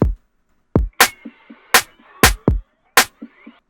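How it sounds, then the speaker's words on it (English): A dry, unprocessed drum pattern plays: sharp, punchy kick and snare hits in a steady groove, with softer taps falling between them. "And I ended up actually using like some real drums."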